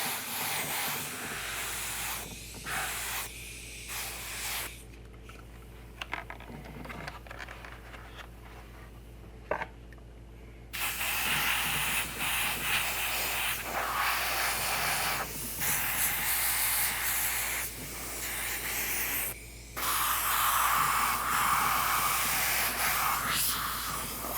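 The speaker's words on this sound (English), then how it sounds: "I'm just going to hose some paint in there and hopefully I get everything." A spray gun hoses paint into a quarter-scale custom part, worked outdoors rather than in a spray booth, giving a steady close hiss in long bursts broken by short pauses over a constant low hum.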